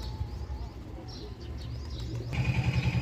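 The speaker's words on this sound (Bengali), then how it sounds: "পায়রাদেরকে গম দিয়ে দিলাম" Pigeons coo softly on a balcony while pecking at scattered wheat grain, with a few faint chirps and low murmuring over quiet background noise.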